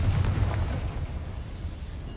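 A Confringo fire spell bursts in Hogwarts Legacy, a single deep, booming explosion at the start that rumbles and slowly fades over about two seconds.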